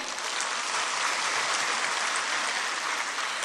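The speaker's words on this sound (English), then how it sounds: "I think the clap should be louder, right?" Loud, sustained clapping from an audience at a state-level competition fills the whole stretch, a dense, even wash of hands with no talking over it.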